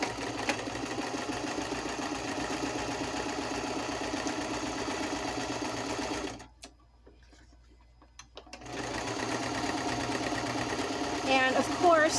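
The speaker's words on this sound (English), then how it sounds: "I'm just trying to talk louder than my sewing machine" A home sewing machine running a straight stitch while making pocket tuck crafts, a steady mechanical whir that stops briefly midway and then resumes, with someone talking loudly over it.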